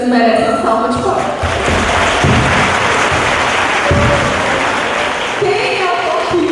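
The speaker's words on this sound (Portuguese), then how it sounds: "Vocês merecem uma salva de palmas." An audience at a school-year opening ceremony bursts into sustained applause, dense and loud throughout, with voices talking over the clapping.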